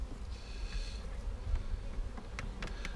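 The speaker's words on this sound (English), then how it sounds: "We're fixing to get into a bunch of bees here, it looks like." Honey bees buzz steadily in a bee yard while hives are opened and honey frames are worked, a close, continuous drone with faint clicks and knocks of handling.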